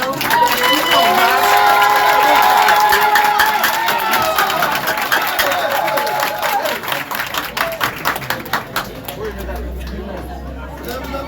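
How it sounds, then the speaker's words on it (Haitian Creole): Loud applause from a crowd fills the space, with scattered cheers and chatter, thinning into fewer claps toward the end. "Un gros applaudissement pour mesdames"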